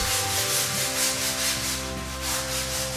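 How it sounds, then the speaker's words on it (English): Crack filler on rounded home-theater pillars is sanded while still wet: a continuous rhythmic rubbing scrape, close and steady, with no talk. "he's already sanding it smooth even though it's wet."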